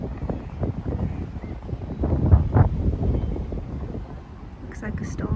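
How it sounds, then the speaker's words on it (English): Strong wind buffets the microphone outdoors in a park before a possible storm, a constant rumbling roar with gusts that swell and ease, and faint rustling on top. "It is very windy."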